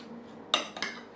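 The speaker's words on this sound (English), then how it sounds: "So you give that a stir." A spoon stirs a healthy breakfast bowl, giving two quick, light clinks against the bowl within about a second, close by and otherwise quiet.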